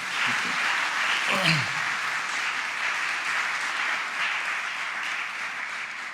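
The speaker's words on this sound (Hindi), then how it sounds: "हम तालियां बजाकर खुदावंद की शुक्रगुजारी कर सकते हैं।" Steady applause from a congregation at an ecumenical church service fills the whole stretch, a dense even patter of clapping with a brief faint voice near the start.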